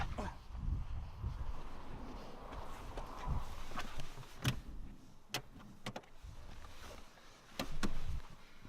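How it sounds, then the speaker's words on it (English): An electric seat in an Audi A3 e-tron adjusts with a faint motor whir inside a quiet car cabin, mixed with soft rustling and clicks of movement. "So I'm going to move the seat up for my driving position"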